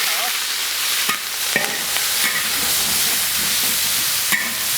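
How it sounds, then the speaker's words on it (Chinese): Two chili peppers stir-fried in hot oil in a wok over a high flame: a steady, loud broadband sizzle with a few sharp scraping strokes of the spatula, and no voices. "先把大火烧起来，锅里加油炒料，2个辣椒一起下炒"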